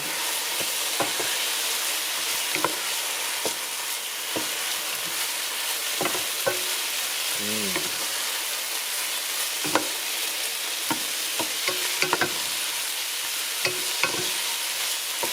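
Spices being stirred in a hot pot for a chicken and sweet potato red curry, a continuous sizzle broken by repeated scraping strokes of the spoon against the pot, close up and steady, with no one talking.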